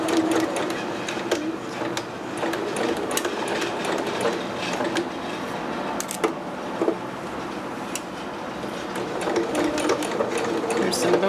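A sewing machine runs steadily while stitching a dress seam with boning, a fast, even mechanical chatter close by, with a few sharper clicks and a brief pause before it resumes.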